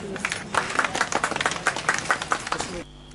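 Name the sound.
teachers applauding a message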